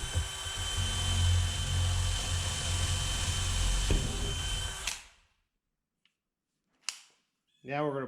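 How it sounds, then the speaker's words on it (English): A loud, continuous hammer drill grinding into concrete for several seconds, then cutting off abruptly into near silence with a sharp knock and a brief voice at the end. "you're using this hammer drill, it's pretty dang loud"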